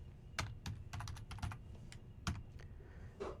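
Typing on a computer keyboard while entering network configuration commands in a router lab, with irregular bursts of close key clicks and short pauses between keystrokes, no voices.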